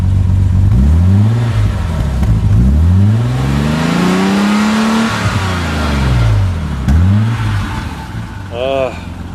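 The engine of the very first BMW M6, an inline-six with 24 valves, revs in a series of rising and falling blips, loud and close, before settling back toward idle.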